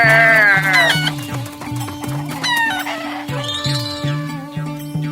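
Chickens cluck close by in a rhythmic series of short clucks, with a rooster-like crow and other bird calls mixed in over steady farmyard background, loud and without talk.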